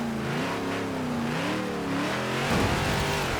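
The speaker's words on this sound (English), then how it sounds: "This is a strong engine, you can see wheel spin there." A 1973 Ford XB Falcon GT in the video game Forza Horizon 4 revs hard with wheel spin, its engine note rising and wavering loudly, then swelling with a rougher burst near the end.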